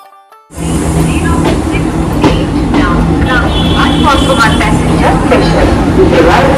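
A passenger train bound for Bolpur rolls along with a loud, steady rumble and rhythmic clatter heard from inside the carriage, while people talk under the noise.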